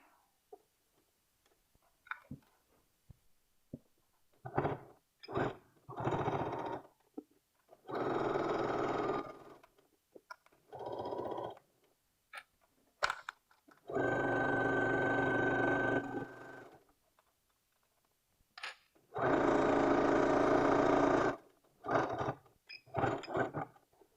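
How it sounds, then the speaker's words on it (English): A sewing machine hems a T-shirt sleeve, with a folded 5/8 allowance sewn on the right side. It runs in several steady whirring bursts of a few seconds each, separated by quiet pauses and small clicks, with no talking. "I've got my 5/8 folded up in there, and I'm sewing on the right side."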